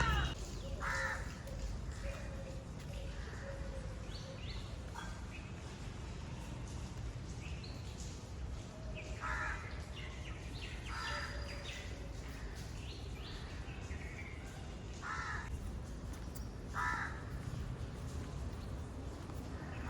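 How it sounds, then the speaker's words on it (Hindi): Crows cawing in the early morning near a park, with pigeons around, several short harsh calls scattered over steady outdoor background noise and a light breeze, the birds at moderate distance. "ये सुबह सुबह जो आवाज़ें होती हैं ना, कबूतर की, कौवों की, कुआं कुआं"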